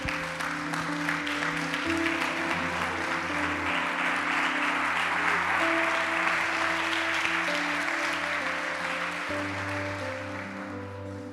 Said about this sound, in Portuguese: Aplaudindo ao Senhor.